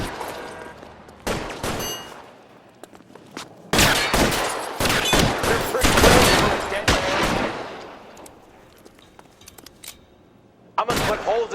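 Gunfire shootout in the L.A. Noire video game, with bursts of loud rapid shots clustering into a sustained volley in the middle, quieter gaps between, and a final sharp burst at the end.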